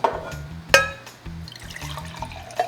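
Warm water is poured into a container for mixing injera batter, with short splashy trickles, a bright clink and a few separate bursts of pouring.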